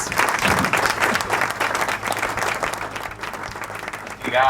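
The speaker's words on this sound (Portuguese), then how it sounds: "Palmas!" Audience applause welcoming a guest onto a talk show: dense, sustained clapping from a crowd, steady and fairly loud for several seconds, tapering slightly near the end.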